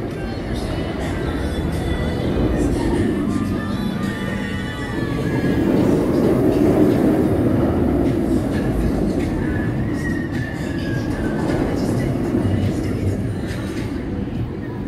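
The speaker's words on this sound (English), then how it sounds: "Suspended looping coaster, and I believe it is the longest of its type" A B&M suspended looping roller coaster, Banshee at Kings Island, runs along its track with a sustained rumbling roar that swells and fades, wheels rattling and faint squeals over park background noise.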